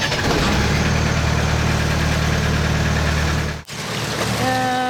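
A sailboat's engine idles steadily during repairs, a low rumbling drone with a steady throb, then it cuts out briefly before a voice speaks over renewed engine noise.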